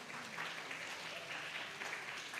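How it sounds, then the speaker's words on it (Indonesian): Faint, steady applause from a group at a school webinar, a soft continuous patter of clapping heard at a distance. "Yuk, tepuk tangan dulu."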